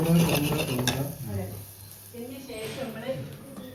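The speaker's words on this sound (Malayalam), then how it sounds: "വെളിച്ചെണ്ണയിൽ ഉലുവയും വെളുത്തുള്ളിയും ചെറിയുള്ളിയും ഇഞ്ചിയും കായപ്പൊടിയും പച്ചമുളകും ഉപ്പും ഇട്ടതിന് ശേഷം ഒന്നിങ്ങനെ ആക്കി എടുക്കുക" Fenugreek, garlic, shallots, ginger, asafoetida, green chilli and salt fry in coconut oil in a home kitchen pan, a soft sizzle under scraping stirs, with a person talking over it.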